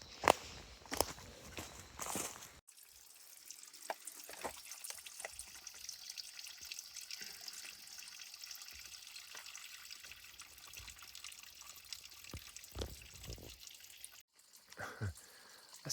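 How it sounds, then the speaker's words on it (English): Water trickling from a small natural seep along a hiking trail as water is collected, a soft continuous dribble with scattered drips and light footstep-like scuffs, quiet and close, with sharper knocks near the start and end. "I stood up from collecting water off of this trickle"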